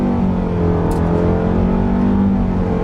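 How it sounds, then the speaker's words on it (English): A 2021 Nissan Rogue with a CVT pulls steadily and loudly under acceleration in sport mode, its drone holding fairly even with slight shifts in pitch, heard from inside the cabin. "Hear how it's doing those shifts? It's very good for a CVT."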